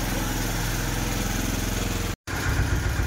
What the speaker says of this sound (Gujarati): જો ટ્રેક્ટર મૂકી દીધું.